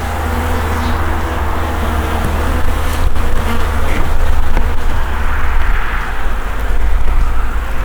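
A steady, dense buzzing of many Buckfast honeybees at an open hive hums throughout, with a low rumble of traffic underneath and no voices.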